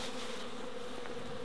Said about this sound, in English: That's our orange tree bees.